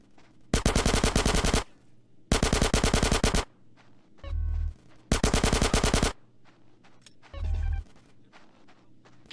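Automatic gunfire in the video game GTA San Andreas comes as three loud, sharp machine-gun bursts, each about a second long, separated by pauses with a couple of low thuds between them.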